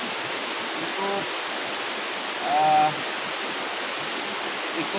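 Water of the upper Buan River in Mahakam Ulu rushes in a steady, even roar, close and continuous, with no voices over it.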